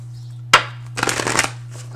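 A deck of angel oracle cards gets a quick shuffle: one sharp tap, then a short riffling flutter of cards lasting about half a second, close and clear, under a steady low hum with no talking.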